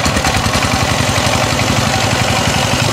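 A power tiller engine runs close and loud, a rapid rhythmic chugging thump with a rattling vibration that holds steady throughout.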